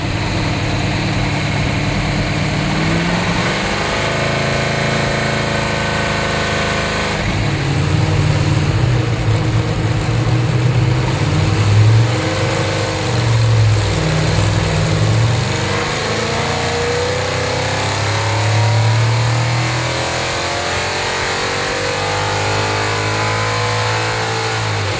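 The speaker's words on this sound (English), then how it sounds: "we allowed the engine to idle until the oil warmed up and then let her rip." A Dodge Dart engine with heavily reworked Chevy heads idles with a steady rumble, then revs up repeatedly in surges that rise and fall, loud and close throughout.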